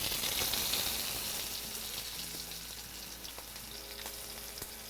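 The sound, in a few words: beef tenderloin searing in a pan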